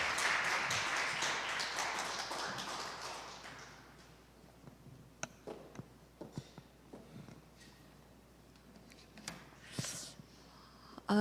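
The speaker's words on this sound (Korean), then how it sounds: "큰 박수로 환영해 주시기 부탁드리겠습니다." Applause from an academy lecture audience welcoming an art-consulting lecturer, a burst of clapping that swells at first, then thins to scattered claps and a few taps before fading into room quiet.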